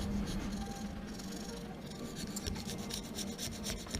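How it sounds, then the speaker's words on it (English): Rust being scraped by hand off a Kawasaki 650SX jet ski reed valve, a steady close rasping and rubbing with repeated strokes that shift direction, continuous for the whole stretch with no talking. "It's also important to change the direction of this scraping so that you are making the surface even."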